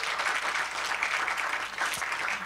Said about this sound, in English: another round of applause for these amazing leaders